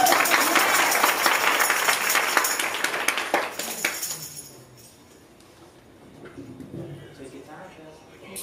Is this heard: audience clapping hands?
yes